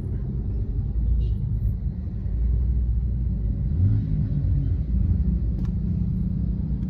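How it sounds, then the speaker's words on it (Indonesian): Congested road traffic heading toward Barelang near Tembesi, Batam, with a steady low engine rumble from slow-moving cars close by, continuous throughout with no speech. "Emang tiap hari seperti ini kemacetan yang ada di arah Barelang ini"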